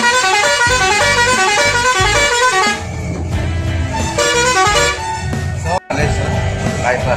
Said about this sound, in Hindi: बड़ी मस्त गाड़ी चलती है भुवनेश्वर से बालेश्वर